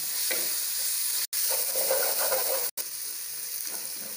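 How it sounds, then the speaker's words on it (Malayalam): Garlic sautéing in a pan for Tamil Nadu-style chicken Ambur biryani, a close, steady hissing sizzle with stirring, broken by two brief dropouts, no voices. "കുറച്ച് നേരം അധികം ഇട്ടിട്ട് വെളുത്തുള്ളി നന്നായിട്ട് വഴറ്റിയെടുക്കണം."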